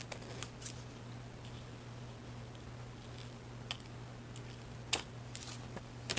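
Scissors snip the corners of a handmade paper envelope at a workbench, giving a series of small, close, crisp cuts and paper rustles in quick irregular bursts over a low steady hum.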